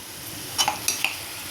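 Onion paste sautés in a pan for egg curry: a faint sizzle under a few light spoon clinks and scrapes against the pan, brief and quiet.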